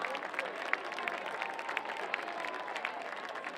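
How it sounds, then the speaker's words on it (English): At a school Hall of Fame induction, an audience gives the inductees a faint, distant round of continuous applause, an even wash of many hands clapping together. "Let's have one more round of applause for all of the Hall of Fame inductees"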